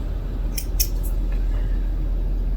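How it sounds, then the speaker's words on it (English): Scissors snip through fabric strips for a pixel quilt, three quick crisp cuts close to the microphone over a low steady hum. "I'm gonna cut off one at a time if I can find my stupid scissors"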